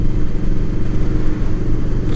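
Honda VFR 800 V4 motorcycle engine while riding, a loud, steady low rumble with wind noise, heard close up from the rider's position and continuous throughout.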